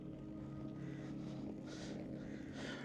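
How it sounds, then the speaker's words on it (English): Strong wind blowing outdoors in Ireland, a constant low rumbling roar buffeting the microphone with gusty hissing surges, fairly faint and with no voices. "Man, it is incredibly windy out here right now."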